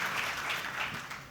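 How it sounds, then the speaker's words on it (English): An awards ceremony audience breaks into applause, a brief dense wash of many hands clapping at moderate distance, steady and unbroken. "each one of you, our cyber warriors, deserves a round of applause"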